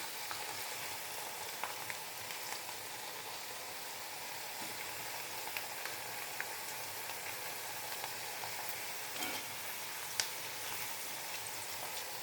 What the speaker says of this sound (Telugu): వేగుతూ ఉన్నాయండి.